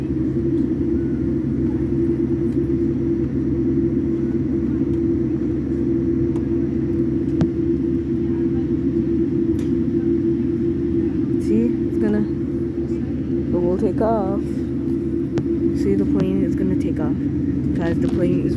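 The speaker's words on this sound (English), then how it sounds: "the plane is ready for takeoff" A KLM Boeing 787 taxis for takeoff at Indira Gandhi International Airport, heard from inside the cabin as a constant low rumble throughout, with a voice talking over the later part.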